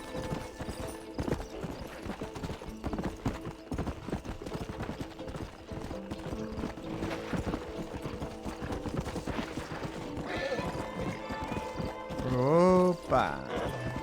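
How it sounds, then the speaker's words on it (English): Horse hooves clip-clopping at a gallop in the Red Dead Redemption video game, a steady, dense hoofbeat rhythm over game music and ambience, with a brief whinny near the end and voices talking. "Mas esse cavalo não faz nada também, não consegue pular uma pedrinha."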